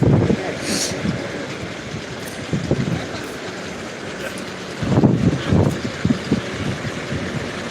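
A locomotive on a test run over the new Pamban bridge gives a steady low rumble with wind buffeting the microphone and swells of louder clatter midway, at a moderate, even pace.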